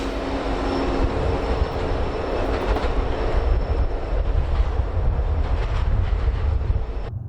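A Union Pacific double-stack freight train rolling through a mountain town on Donner Pass in winter, a loud, close, continuous rumble with rhythmic wheel clatter that holds steady and then cuts off abruptly.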